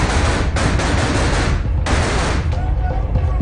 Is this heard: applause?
no